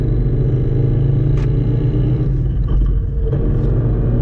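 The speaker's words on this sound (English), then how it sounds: "I'm being quiet because how loud this transmission is" Inside a car fitted with a Lethal Performance 525 Street Fighter clutch, a loud transmission and engine drone steadily while cruising, a constant deep rumble with a few faint clicks over it.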